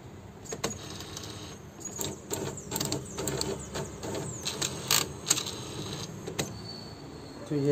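A Brother MFC-430W inkjet printer running after its sensor was cleaned, giving a close run of soft clicks, ticks and brief motor whirs at a fairly low level, with someone speaking now and then.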